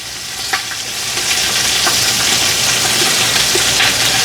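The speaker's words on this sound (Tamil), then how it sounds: "வெங்காயம் பச்சை மிளகாயும் போட்டுட்டேனுங்க. நல்லா வதங்கட்டும் கொஞ்சம் நேரம்." Onions and green chillies fry in a pan with a steady, loud sizzle, with scattered crackles and stirring scrapes and no voices.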